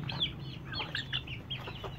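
Hens cluck in a soft, steady series of short, chattering calls close by, over a low constant background hum, with no talking.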